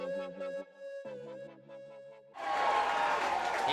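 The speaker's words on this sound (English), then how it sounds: "You hear the roar of the crowd." Crowd roaring at an Under 17 football grand final between Coffs Harbour Breakers and Sawtell Toormina Saints, a sustained loud swell that bursts in after a couple of seconds of steady tonal horn-like notes.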